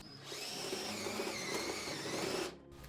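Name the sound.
drill with step bit enlarging hole in switch case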